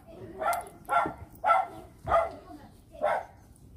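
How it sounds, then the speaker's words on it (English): A dog barks outside with five evenly spaced barks about half a second apart, moderately loud and a little distant, with no speech over them. "I can't imagine it's going to do anything with that dog barking out there."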